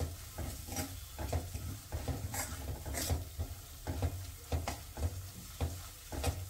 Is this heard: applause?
no